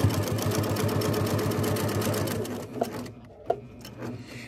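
A sewing machine stitches a fabric face mask at moderate speed, with a close, rapid, even mechanical whirr that slows and stops near the end, leaving a few soft clicks.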